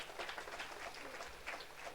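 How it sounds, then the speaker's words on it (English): Faint, distant applause: a steady patter of many hands clapping, soft and continuous throughout. "Let's give a big applause to him."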